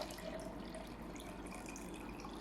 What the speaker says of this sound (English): I add in more water.